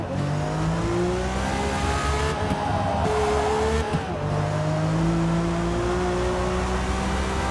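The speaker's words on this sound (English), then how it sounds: "Dad's just playing video games and racing cars." A Nissan Skyline GT-R in the Forza Motorsport racing game holds a loud, steady engine drone that climbs through revs with gear shifts, while tires squeal and skid through corners over an ongoing close roar.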